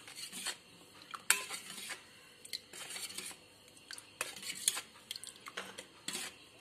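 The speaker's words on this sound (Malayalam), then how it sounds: "നന്നായിട്ടൊന്ന് മിക്സ് ചെയ്യാം." Spiced buttermilk with crushed ingredients and salt stirred in a bowl, a spoon clinking and scraping against the sides in irregular close bursts, moderately quiet with no talking.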